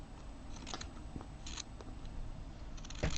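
Scissors snipping out small egg shapes from fabric for a stitched egg nest bunting, a few quiet crisp cuts spaced irregularly over a low steady background hum.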